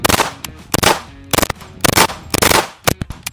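Kriss Vector rifle with a three-position FRT trigger and a stick magazine firing several rapid bursts, loud close shots in quick clusters with short pauses between them.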